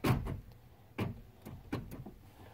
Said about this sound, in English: hit the door lock switch on the door